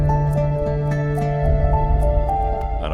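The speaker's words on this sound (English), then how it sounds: "exploration music sounds like this" Exploration music for a video game, built from layered tracks in an interactive setup, with sustained tonal chords, a steady low bass and light percussive ticks, playing continuously and fairly loud with no voices.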